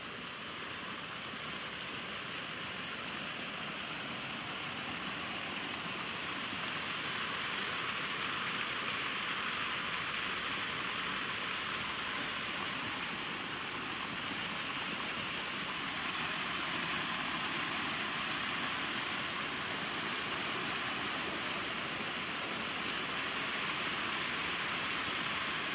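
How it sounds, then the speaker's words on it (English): Steady, broadband rushing water from small waterfalls along a hiking trail, a constant wash lasting the whole stretch with no talk over it. "you can hear the sound in the background as we approach this small little waterfalls"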